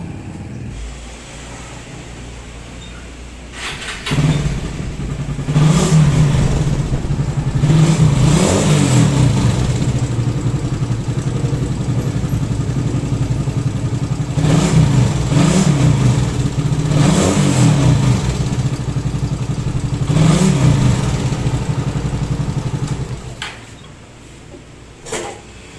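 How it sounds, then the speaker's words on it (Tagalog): A motorcycle engine with a choking, sputtering fault idles, then revs repeatedly in loud, rising surges before settling back down; no talking. "humahagok yung motor niya"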